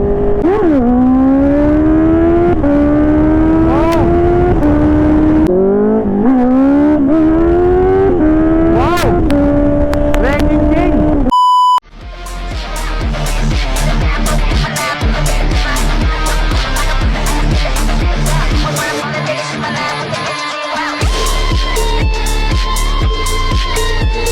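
A Honda CBR650R fitted with an RCB steering damper revs hard along a long straight, its four-cylinder engine climbing through the gears with steady wind roar, then a brief break and buzzing onboard engine noise at speed.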